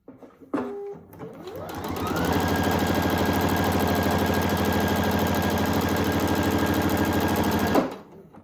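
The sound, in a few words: sewing machine stitching quilt border block pieces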